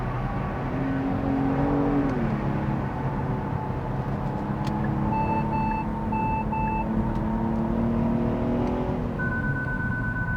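A car engine paired with an 8-speed automatic hums and pulls steadily while driving, heard from inside, with a short series of electronic warning beeps chiming over it midway and again near the end.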